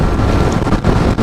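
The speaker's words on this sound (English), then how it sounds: "I'm doing 70 miles an hour in the rain, and it's windy as all get out" Wind and rain rushing past a rider on a Yamaha XSR 900 three-cylinder motorcycle at 70 mph, a loud, dense, steady roar of wind buffeting with no speech.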